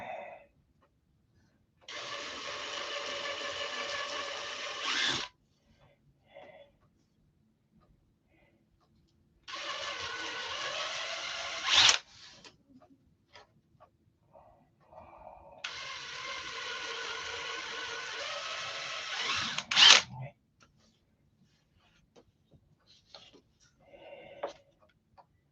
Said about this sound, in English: we're going to drill holes